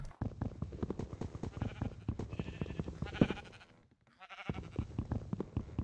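Repeated sheep bleats in Minecraft over a steady background music bed, fairly loud and continuous, with a brief lull before the bleating resumes.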